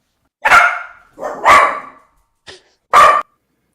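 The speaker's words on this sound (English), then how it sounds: "That dog is super excited about this conversation as well." A dog barks four times close by, loud sharp woofs in an uneven rhythm with short gaps, heard alone without talk.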